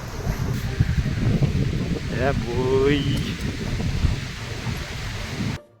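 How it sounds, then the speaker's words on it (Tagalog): Strong wind blows outdoors on a rainy day in Canada, a steady roaring buffet against the microphone throughout, with a brief shout from a man partway through. "Tapos sobrang lakas ng hangin."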